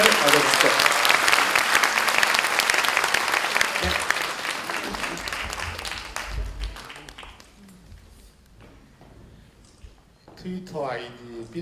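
Audience applause at a Democratic Party talk concert in Daegu, welcoming a lawmaker: loud, dense clapping from a large crowd that gradually fades out, giving way to scattered sounds and a voice talking at the end.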